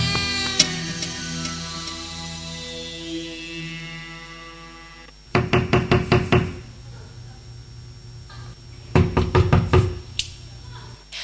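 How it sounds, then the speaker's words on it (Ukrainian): Knocking on a palace gate in a church stage play, two bursts of several quick loud raps after a sustained tone, with a voice speaking in between. "Хто це там стукає, касиньє?"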